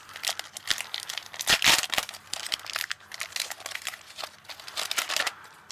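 An Upper Deck football card pack wrapper torn open close up, sharp crinkling and ripping of foil in irregular bursts, with rustling cards shuffled between tears and no talking.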